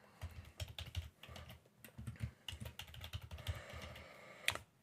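Keys clatter at a steady, uneven pace as a new password is typed on a computer keyboard, close and fairly quiet, with a slightly louder burst near the end and no voices.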